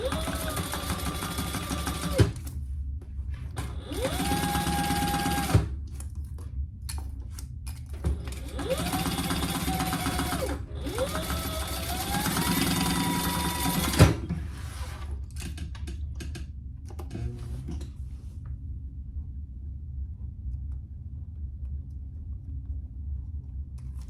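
A sewing machine stitches closed the bottom of a vinyl crossbody wallet in four whirring bursts of rapid stitching, separated by pauses where only a low motor hum and a few clicks remain.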